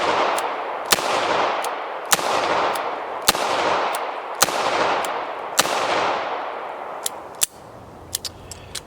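Six sharp, loud shots from a Smith & Wesson Model 632 J-frame revolver firing Remington HTP 85-grain .32 H&R Magnum jacketed hollow points, evenly spaced about a second apart with ringing decay, followed by fainter metallic clicks and clatter.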